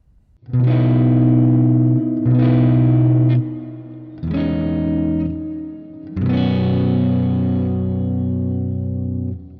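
Guitar chords from a rock song strummed through an effects unit with distortion and chorus, four sustained chords ringing in turn, loud and alone with no talk.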